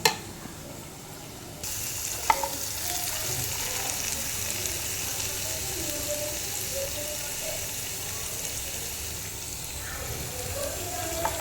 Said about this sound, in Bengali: এদিকে আমার পেঁয়াজটা কষানো হয়ে গেছে তেলগুলো একটু ছাড়ছে